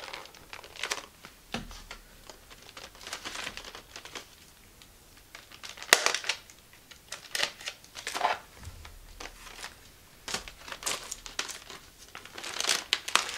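Plastic packaging is crinkled and pulled apart during unboxing of a food delivery, producing close, irregular bursts of crackling and rustling with short pauses between handfuls.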